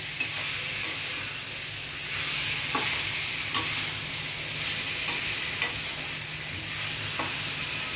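Marinated chicken and potato pieces fry in a pan over a low gas flame for a dhaba-style chicken curry. There is a steady close hiss of sizzling, broken by occasional sharp scrapes and clicks of a spoon stirring, with no voices.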